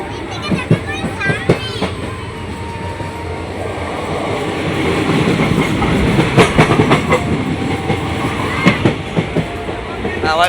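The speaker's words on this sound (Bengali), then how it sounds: "ট্রেন ছেড়ে দিয়েছে" A moving train rumbles and clatters steadily, with rhythmic clickety-clack and sharp metallic knocks, while people talk faintly nearby.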